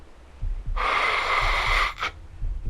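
A voice imitates a scuba regulator underwater: a long harsh hissing rush of air for about a second, then a short burst, with soft rhythmic bubbly thumps underneath.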